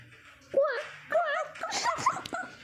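A person imitates a dog with whiny, yelping vocal sounds in short rising bursts, close and fairly loud, followed by more playful voicing.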